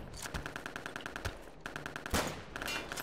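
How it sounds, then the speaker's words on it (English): Rapid machine-gun fire in the shooter game Return to Castle Wolfenstein rattles in steady fast bursts, loud and close, with a brief pause and a louder blast near the end before firing resumes. "I am getting shot in the back."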